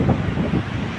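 Large waves wash onto an empty beach in Samar, a steady broad roar of surf blended with strong wind buffeting the microphone, with no voices.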